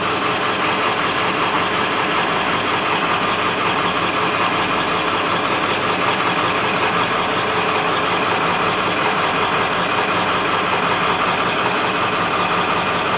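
A 1995 Ford F-250 with a 7.3L diesel engine running at a rough idle, a loud, continuous, unchanging drone close by throughout.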